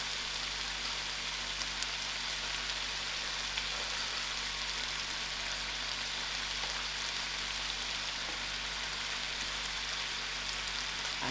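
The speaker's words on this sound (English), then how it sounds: "You can see how beautiful the chicken is frying." Chicken and mushrooms fry in a pan, a steady, even sizzle with no pauses, close and moderately loud, with no talking over it.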